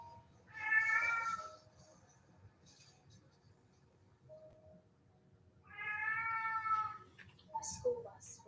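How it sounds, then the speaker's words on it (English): A cat meows twice, once clearly near the start and again a few seconds later, with faint fainter cries at the end, all fairly close against a quiet, low background hum. "Before another meow comes out of his mouth."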